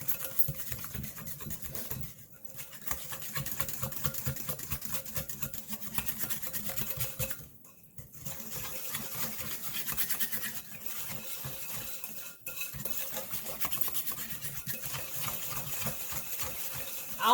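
Sugar cookie dough being creamed by hand in a bowl, a continuous soft scraping and rubbing with steady rhythmic strokes, close but quiet, with brief pauses and no talking.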